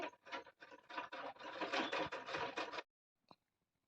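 A sewing machine stitches in a fast, rhythmic burst for a few seconds and then stops, followed by a single faint click.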